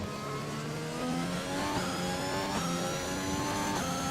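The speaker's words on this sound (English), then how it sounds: "And the car is coming back out again." An F1 car in the F1 2021 video game revs out of the pits at the Brazil race, a continuous loud engine whine climbing through several gear changes.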